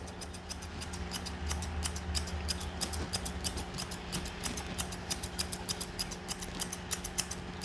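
Grooming scissors trim a Morkie puppy's hair around the head, making a quick, steady run of crisp snips up close with no talking.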